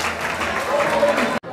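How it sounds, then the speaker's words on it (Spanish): An audience applauds the cast of a theatrical musical at Plaza Galerías in Mexico. Dense, steady clapping runs with some voices mixed in, then cuts off abruptly near the end. "El aplauso para ellos"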